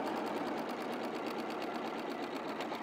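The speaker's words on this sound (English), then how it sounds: "And then just sew right across the length." A sewing machine stitching across fabric runs steadily alone, its fast even needle chatter repeating in a continuous rhythm at moderate, close volume throughout.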